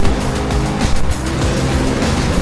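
A loud, steady engine roar with a rising whine from a car at about 257 km/h in Need for Speed Rivals, running continuously without pause.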